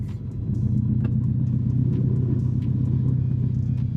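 A car engine that has sat parked for about six months runs with a steady, loud low rumble close by as the car begins to drive, its tone holding fairly even.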